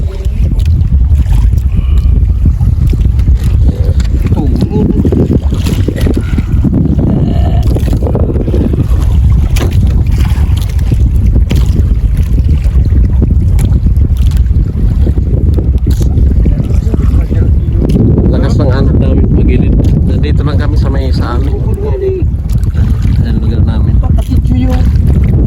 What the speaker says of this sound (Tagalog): Grabing ano, hangin ng timog.